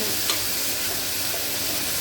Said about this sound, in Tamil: ஆனியன் வந்து வதக்கிறப்பையே அதுக்கு தேவையான உப்பு போட்டு நல்லா வதங்கிடும்.